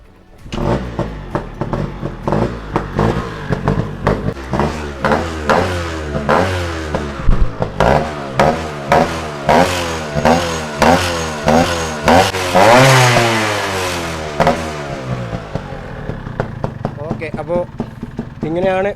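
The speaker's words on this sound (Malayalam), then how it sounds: "വണ്ടിയുടെ സൗണ്ട് വരുന്നത് കേട്ടോ" A Yamaha RX135 two-stroke motorcycle revs in sharp repeated bursts, loud and close, with a raspy open exhaust crackle between throttle blips.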